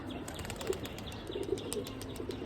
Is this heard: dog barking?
no